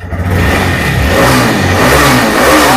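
TVS Raider motorcycle engine revving hard while in gear, a loud, close, continuous roar that climbs and holds, with no talking.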